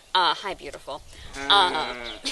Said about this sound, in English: the sheep yelling something.